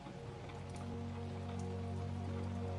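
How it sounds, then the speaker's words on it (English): Steady rain falls in a continuous, even patter with scattered nearer drops, a dense close hiss with no voices. "The rain has found its rhythm now. You can hear it, 3 layers, 3 voices, all singing together."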